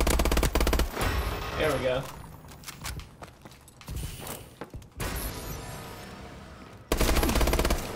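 Rapid bursts of automatic gunfire from a Call of Duty: Advanced Warfare match, loud and close, broken by short pauses and scattered single shots, with a player talking over the action.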